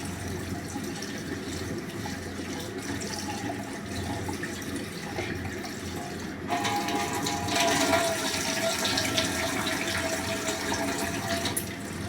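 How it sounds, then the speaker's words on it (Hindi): Steady running water with sloshing as rice is washed in a vessel, continuous throughout and growing louder and splashier partway through. "चावल जो है ना हमेशा आप किसी बड़े खुले बर्तन में धोएं"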